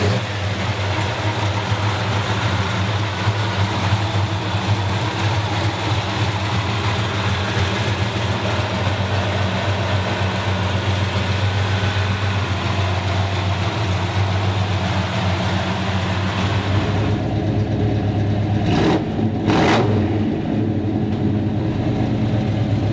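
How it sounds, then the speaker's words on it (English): A 1966 Chevrolet Chevelle convertible's big-block V8 runs steadily with a deep, even rumble for most of the stretch, then the tone shifts near the end as it revs briefly, heard close without talk. "Let's take this convertible for a ride. Love the big block."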